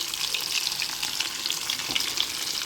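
Steady crackling sizzle of food frying in a pan, a dense hiss with small pops throughout, close by and with no voices.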